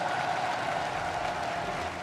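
An arena audience at the Overwatch World Cup 2018 Paris qualifier applauds the player Soon, a dense, steady roar of clapping that fills the whole moment.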